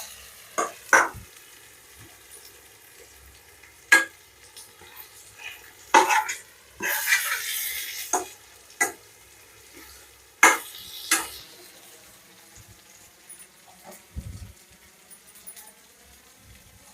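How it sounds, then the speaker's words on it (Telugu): Stuffed eggplant with peanut powder sizzles softly in oil in a pan, broken by a series of sharp scraping stirs and clinks of a spoon at irregular intervals, with no talking. "ఆయిల్లోనే బాగా వంకాయ అనేది ఉడకాలండి"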